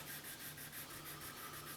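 Sanding the clear coat on a Gibson Les Paul headstock by hand with a small rubber sanding block, a steady close-up scratchy rubbing that repeats in an even back-and-forth rhythm with no talking.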